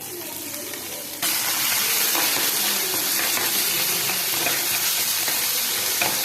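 Curry leaves and green chili hit hot oil with a sudden loud sizzle that jumps in at once and holds as a steady, dense frying hiss, with faint stirring under it.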